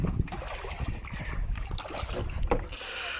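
Water sloshes and laps around a small rowboat used for traditional fishing on the Konkan coast, with wooden knocks and rustling against gusty wind noise close to the microphone.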